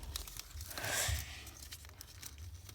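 Paper being folded by hand for origami, a close, fairly quiet crinkling rustle that swells briefly near the middle and then settles into soft handling noises, with no talking.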